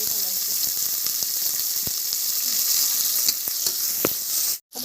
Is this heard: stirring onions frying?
yes